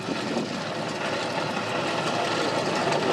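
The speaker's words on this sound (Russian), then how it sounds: "Как холостые такие неровные прям, да? Прям пропуски такие жесткие." An aircraft engine idles roughly with misfires at an airfield in Yakutsk, a dense, steady roar heard from nearby without clear pauses.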